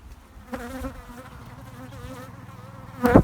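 Honeybees from a swarm buzz close by with a wavering drone, a few louder passes rising and fading, and a sharp burst of noise near the end.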